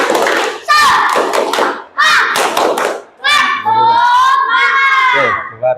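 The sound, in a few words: children doing the 'tepuk semangat' clapping chant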